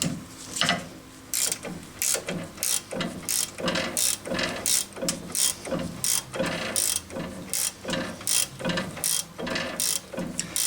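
Socket ratchet tightening the strut nut on a Honda Civic front strut, a long run of quick metallic pawl clicks in regular bursts, close and loud.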